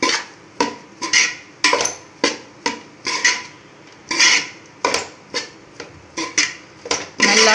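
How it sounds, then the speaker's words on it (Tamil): Egg fried rice being stirred in a pan, a metal spatula striking and scraping the pan in a steady series of sharp, close clanks and scrapes, about a dozen strokes with no talk. "நல்லா கிளறி விட்டுக்குங்க."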